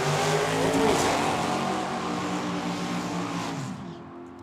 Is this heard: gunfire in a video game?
no